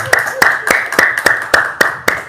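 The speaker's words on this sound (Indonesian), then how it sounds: "Tepuk tangan dong" An audience claps in a quick, even rhythm, about eight sharp, loud claps in a little over two seconds, close and clear with no other sound between them.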